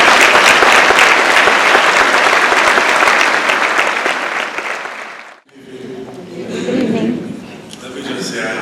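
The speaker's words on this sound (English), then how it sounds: "Let's give a round of applause." Loud, dense applause at a Botham Jean Foundation red tie gala fills the hall for about five seconds and then stops abruptly, giving way to a voice speaking into the room.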